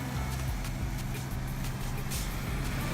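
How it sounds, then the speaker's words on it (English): A fire truck passing on a city street at night, a steady low engine rumble with faint clatter, moderately close and continuous, with no voices. "Well, nope, that's a fire truck."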